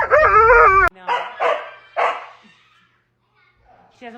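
A dog indoors gives a long, wavering howl-like whine, followed by three sharp, loud barks in quick succession. The barks are close and the room is otherwise quiet, with a faint sound at the very end.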